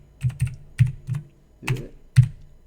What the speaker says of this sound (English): Typing with one hand because I'm still holding my pop filter.